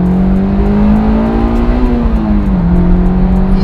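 A Honda S2000 sports car engine revs hard and steady, its whining pitch climbing then easing slightly, loud and close throughout with no voices.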